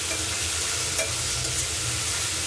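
Chopped onions and tomatoes fry in a pan over melted sugar, giving a close, steady sizzle with low rumbling stirs and a couple of brief spatula taps, without any voices.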